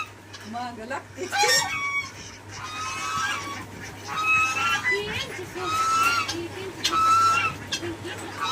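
Ducks quack and honk close by in short bursts, several calls overlapping at irregular intervals.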